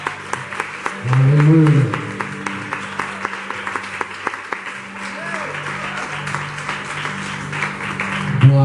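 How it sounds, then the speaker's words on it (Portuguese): A church congregation applauds the worship group during an evening service, with a steady patter of clapping running through the whole stretch and a voice speaking over it. "Receba o grupo de louvor aplaudindo, glorificando o nome do Senhor."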